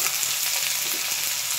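Finely chopped onion frying in a pan for plain bhindi sabzi, a brief, even hissing sizzle close by with no voices.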